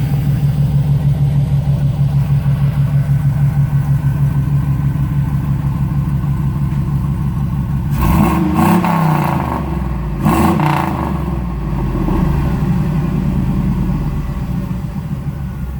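Jeep YJ fitted with a 5.3 V8, Edelbrock headers, 3-inch exhaust and rear-exiting MagnaFlow muffler, idling with a steady deep rumble, then two sharp revs that rise and fall before it settles back to a loud lumpy idle.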